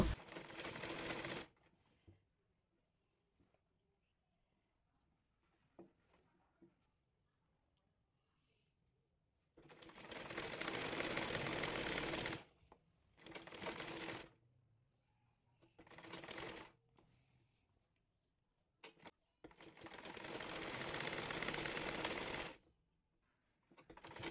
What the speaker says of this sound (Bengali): বেল্টের কাপড়টির সঙ্গে সালোয়ারের নিচের অংশের কাপড়টির কুচি সেলাই করে নেব